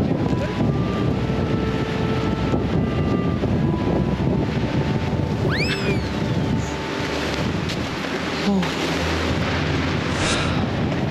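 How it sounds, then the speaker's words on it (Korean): Wind roars steadily through a winter forest on a steep slope, a dense, close rush like buffeting against the microphone, with brief faint voices and a passing whistle-like tone. "오, 바람 소리가."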